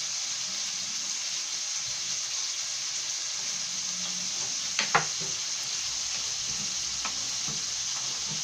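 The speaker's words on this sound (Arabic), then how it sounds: "الدجاج ديالي كنقليه مزيان حتى يتحمر، نقليه هادي مزيان." Chicken frying in oil until golden, a steady close sizzling hiss throughout with a couple of brief knocks or stirring clinks near the middle, no talking.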